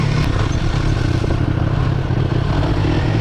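A steady FJ Moto scooter engine drones continuously with low rumble and rushing wind noise, as if heard while riding along at constant speed.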